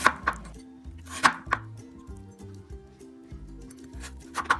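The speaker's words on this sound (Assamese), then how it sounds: "মূলাকেইটাও তেনেকৈ সৰু সৰুকৈ কাটি ল'ম।" Radishes being chopped into small pieces for an Assamese mixed vegetable pickle, with sharp knife strikes on a board in short bursts near the start, middle and end, over soft background music.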